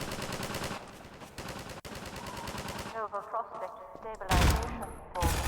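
Rapid automatic fire from an entrenched emplacement gun in the video game Half-Life 2, a dense machine-gun rattle followed by scattered shots and impacts, loud and close, with a voice speaking over it.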